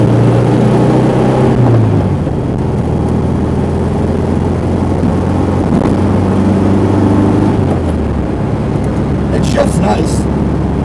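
A 1968 VW Karmann Ghia pulls steadily in second gear after a downshift from fourth, its air-cooled engine droning loud and close throughout, with a brief whine near the end.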